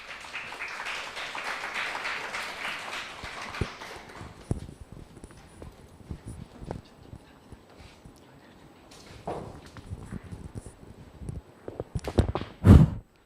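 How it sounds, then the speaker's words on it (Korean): A seminar audience at a study-program information session claps, a dense wash that fades away over the first few seconds. Scattered claps, shuffles and a loud knock follow near the end. "다음 순서로 실무를 담당하고 계시는 서광채 박사님을 큰 박수로 모시겠습니다."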